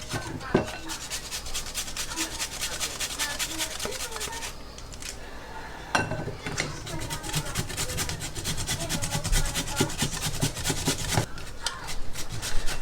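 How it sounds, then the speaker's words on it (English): Pumpkin is grated by hand on a grater in a home kitchen, a fast, steady rasping of quick strokes close up, with brief pauses and a few knocks between runs. "I'm gonna grate some pumpkin because I'm gonna make pumpkin rice"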